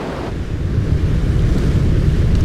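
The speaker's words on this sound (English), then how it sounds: "Spring storms create destructive surges." Heavy surf and gusting wind of an Australian spring storm roar together in a dense, unbroken wash of noise, loud and close with no voices.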